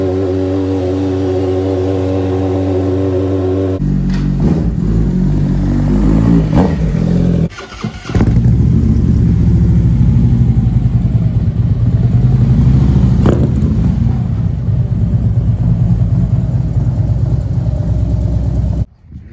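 A car engine starts up and idles loudly close by as the car is moved out of a garage. A steady low rumble carries some revving and brief gaps and runs for most of the clip, with no talk.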